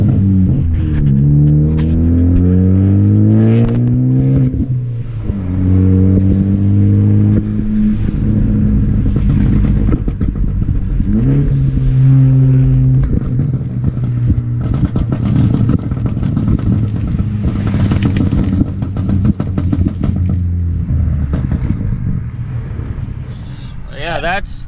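A car with a full 3-inch straight-pipe exhaust and a catless downpipe revs hard several times, each loud, close burst climbing and falling in pitch before it settles back to a throaty rumbling idle.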